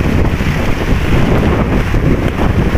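Strong wind roars and buffets steadily around a small boat on open water, loud and close, with a dull rush of waves underneath.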